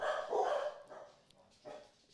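A dog lets out a loud close bark followed by a couple of softer, shorter barks.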